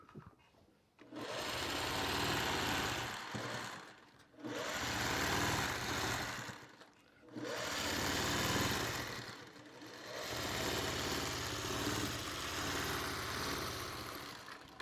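A home sewing machine stitches a thick fabric strip onto the bottom of a quilt block, running in four close, loud bursts of rapid whirring, each a few seconds long and separated by short pauses.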